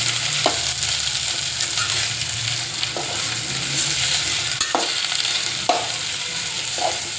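Potatoes frying in a pan for a fasting-day farali dish, a broad steady sizzle with repeated scraping stirs of a spoon at irregular intervals, close and continuous with no talking.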